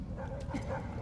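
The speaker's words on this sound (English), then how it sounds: "and set the dogs on me" Dogs barking and yipping in the Ace Combat 7 video game, a short burst of close canine yelps set against a dense low rumble.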